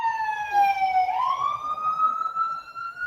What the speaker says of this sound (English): An ambulance is coming by, so somebody needs help.